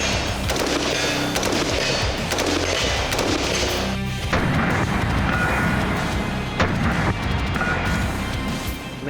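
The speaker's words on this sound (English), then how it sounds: "This is a 308 shooting 150 grain ball." A Springfield Armory SAINT Victor rifle in .308 firing 150-grain ball ammunition in rapid succession, loud close-range cracks and booms running continuously with no talk.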